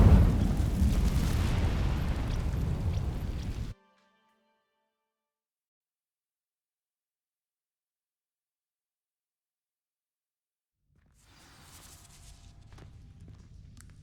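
Incendio spell setting dry vines alight in Hogwarts Legacy: a loud roaring, crackling blaze for several seconds that cuts off into silence, followed later by faint footsteps.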